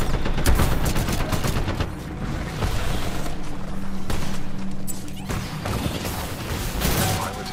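Gunfire aimed at a mini mech in Titanfall 2, with bursts of rapid shots mixed with impacts, clanking mechanisms and crashes, loud and busy throughout, with brief pauses between volleys.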